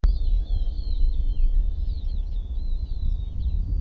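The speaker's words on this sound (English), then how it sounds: "Nature environmental noise with various bird vocalizations, high fidelity, children playing far away" Outdoor ambience with steady low rumble and a continuous high chirping and twittering of birds, with no voices.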